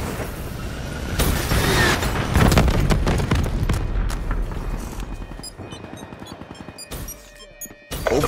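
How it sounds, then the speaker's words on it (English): A Hellstorm missile strike in Black Ops III lands as a loud, rolling barrage of booms and rapid gunfire-like impacts that swells early, keeps up for several seconds, then thins out into scattered clicks and mechanical sounds. "Hostile Hellstorm inbound."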